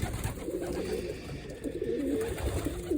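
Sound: breeding pigeons cooing

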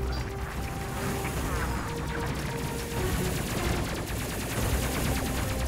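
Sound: spaceship guns shooting fighters in the video game Space Crew

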